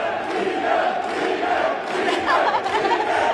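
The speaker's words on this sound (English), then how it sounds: "And the crowd cheering in the background" A large soccer crowd at a Play Soccer Globe match roars and chants steadily, a dense wall of voices with rising shouts and no pauses, loud and close throughout.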